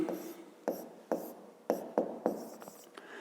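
Hand writing on paper while working a fifth-grade maths exercise, six or seven distinct pen strokes in a loose rhythm, each starting with a sharp scratch that trails off, close and alone.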